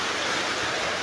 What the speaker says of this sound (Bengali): বৃষ্টি আর তুফান একসাথে।